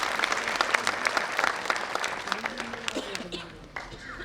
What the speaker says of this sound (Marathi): त्या संपूर्ण मंडळासाठी आणि आपल्यासाठी एकदा जोरात टाळ्या वाजवा प्लीज